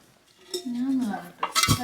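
Metal biryani pot (chembu) handled and clinked while a gift is unboxed, with a soft scrape followed by a couple of bright metallic knocks near the end, close and fairly quiet.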